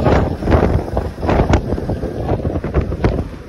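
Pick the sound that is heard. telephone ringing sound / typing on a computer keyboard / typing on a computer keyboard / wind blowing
wind blowing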